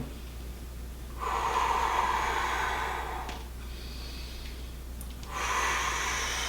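Deep rhythmic breaths during an upper-body foam roller massage exercise: two long, fairly close exhalations, one early and one near the end, with a quiet pause between them.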